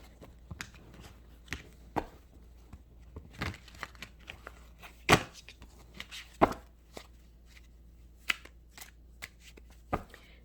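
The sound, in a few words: shuffling cards for a tarot card reading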